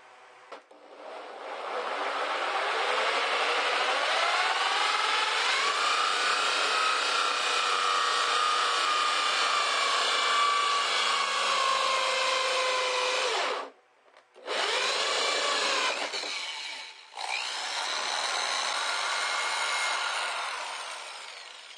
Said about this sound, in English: we'll drill this out with a hole saw and install it